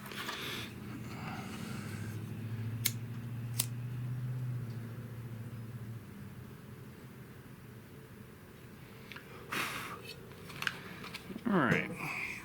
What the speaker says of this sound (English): I'm going to snip that extra end off